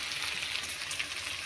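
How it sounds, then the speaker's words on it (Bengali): Paneer fries in a pan with a soft, even sizzle and faint crackle throughout a short stretch, with no voices. "এবার ভাজা পনিরগুলো দিয়ে দেবো।"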